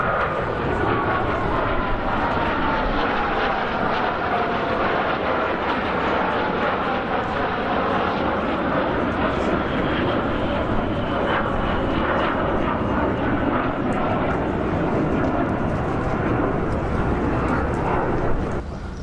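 Four fighter jets flying overhead on a USA road trip, a continuous loud roaring rumble that holds steady throughout with no clear approach or fade.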